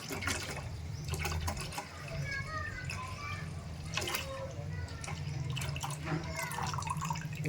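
Milk poured into a pot on the stove, a continuous liquid pouring and splashing sound with faint clinks, with a voice talking over it.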